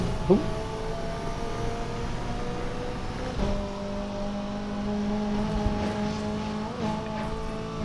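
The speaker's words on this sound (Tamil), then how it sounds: "இது என்ன புகாட்டி இவ்வளோ ஸ்பீட் பறத்துக்கு 350 போயின்னு இருக்குங்க" A Bugatti hypercar in a racing video game roars at high speed, a steady sustained engine drone with shifting pitch and a brief tire squeal near the start, under faint talk.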